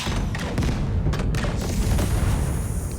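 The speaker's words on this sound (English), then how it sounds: "So I'm going to open up with my big cannon and shoot these guys." A big cannon fires at enemies in the video game Zephon, heavy booming blasts with deep rumbling thuds in close succession, loud and with no talk over them.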